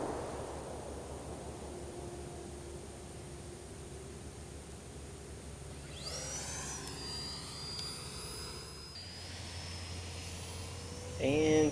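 An E-Flite Viper 64mm EDF model jet, gear off and flaps up, roars past with a steady ducted-fan whine that rises and sweeps in pitch as it flies by, then surges louder near the end.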